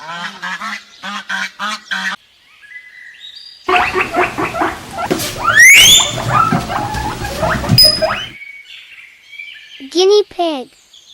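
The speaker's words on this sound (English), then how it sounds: "Guinea pig." A pet guinea pig lets out bursts of high squeaks and chattering squeals, some rising whistles, close and loud, in several separate outbursts.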